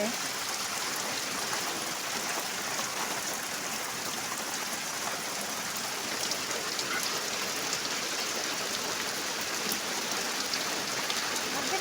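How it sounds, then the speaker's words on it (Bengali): Heavy rain pouring down, a dense continuous hiss of falling water that stays steady and loud throughout with no clear break. "এই যে দেখো বৃষ্টি নেমে গেছে খুব জোরে ফিরে আবার বৃষ্টি পড়া শুরু হয়ে গেছে"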